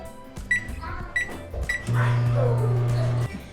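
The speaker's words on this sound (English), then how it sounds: "we're going to start by warming up our milk in the microwave for 50 seconds" A microwave oven warming milk hums steadily for over a second after a few beeps and clicks, a close, even drone that stops abruptly.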